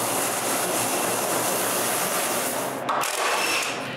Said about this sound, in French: c'est le sablage final.